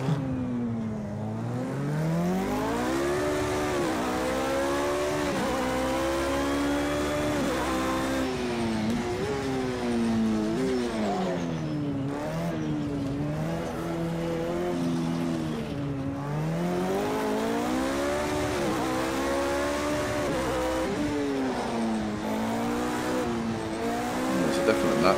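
A race car engine in a racing video game revving hard and sustained, rising and falling in pitch as it shifts through gears and corners, loud and continuous for the whole stretch, with occasional tire squeal mixed in.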